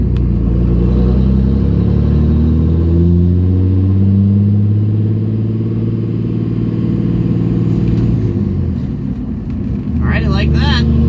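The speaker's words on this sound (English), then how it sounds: "You can definitely hear the turbo whistle louder, which is nice." A Cummins diesel truck with a custom intake builds boost and accelerates, its loud engine drone rising steadily in pitch with a turbo whistle over it and a brief burst of higher noise near the end.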